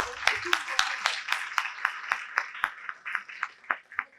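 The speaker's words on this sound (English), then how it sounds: "Round of applause for all of them." A round of applause for award winners at a young innovators' health award ceremony: steady rhythmic clapping from a modest crowd, fairly close, fading slightly toward the end.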